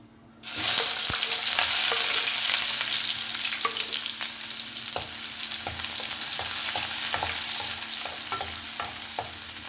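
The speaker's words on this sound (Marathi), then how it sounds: "कांद्याला छान परतून घ्यायचं" Onion starts sautéing with cumin in hot oil for a cabbage and pea sabzi, a sudden loud sizzle that settles into steady frying with repeated soft taps of a stirring spoon.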